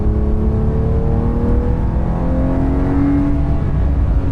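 A Porsche 992.2 Carrera T drives on a wet road, its engine droning steadily with rising tonal whine from the turbos and a broad low rumble throughout.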